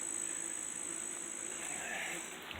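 Southern yellowjacket wasps buzzing around their nest in bushes, a continuous close insect drone with a steady whine and no talking.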